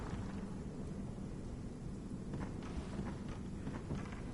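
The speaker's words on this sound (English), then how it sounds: "I think one of the lightning people took a pot shot at me." Thunder from a lightning strike rumbles in the Bloodborne video game, a faint, steady low roll with rain-like hiss and a few crackling bursts toward the end, no talking.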